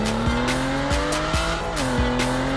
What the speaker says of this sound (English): drift, bro.